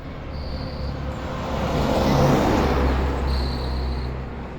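A single car swells past on the road, rising to a broad whooshing peak mid-way and fading again, with steady low traffic rumble underneath.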